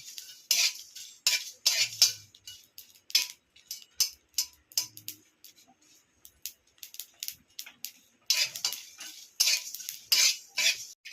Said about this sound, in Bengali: এবার আমি গোটা জিরে ও পাঁচ ফোড়ন দিয়ে দিলাম দিয়ে মশলাটা আমি ভালোভাবে ভেজে নেব